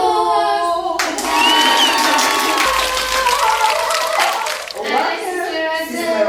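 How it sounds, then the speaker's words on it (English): A podcast studio audience breaks into a dense round of applause with some cheering for an arriving guest. It is framed by talk before and after and lasts several seconds. "And let's give her a round of applause."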